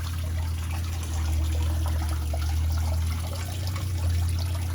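Old coolant drains from a 1974 AMC Javelin into a drip pan, a steady low trickle and pour under a constant hum, faint and continuous without talk.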